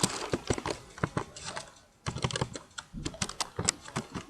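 Someone types a website title on a computer keyboard, producing quick close clusters of crisp key clicks in uneven bursts, with a short pause in the middle and no speech.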